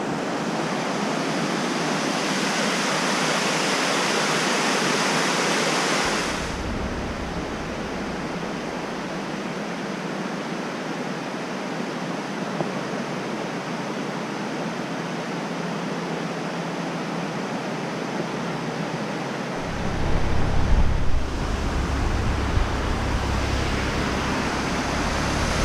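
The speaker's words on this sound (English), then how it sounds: "Okay, so this is our first weir of the day." Water pours over a canal weir on a narrowboat route near Hamstead Lock, making a steady, loud broadband rush that runs unbroken with no speech.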